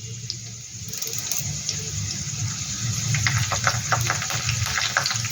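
Curry leaves hitting hot oil in a pan while making masala chira, a steady bright sizzle and crackle that grows busier after the first second and keeps going with no voices.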